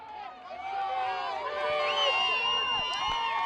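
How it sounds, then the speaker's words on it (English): Crowd cheering and shouting at a high school lacrosse game between Peabody and the Lowell Raiders, a dense roar of many voices with whistle-like shrieks, rising in intensity and sustained near the end of the game. "The crowd's going crazy here with 29 seconds left in the game"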